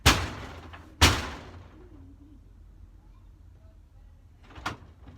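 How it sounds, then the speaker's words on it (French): Two sharp door impacts near the start, the second a hard slam about a second after the first, then a quieter knock or latch near the end, recorded indoors in a tack room with faint background noise between. "La porte."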